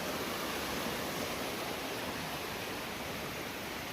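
Kakek Bodo waterfall, a broad steady roar of falling water filling the whole range, constant and close with no voices over it.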